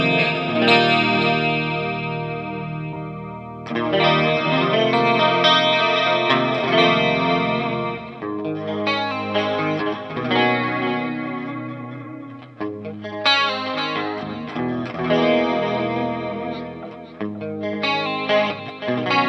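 Clean electric guitar played through a Cuvave Cube Baby amp with a swapped impulse response, with chorus-like shimmer and strummed chords and phrases ringing continuously and loudly throughout.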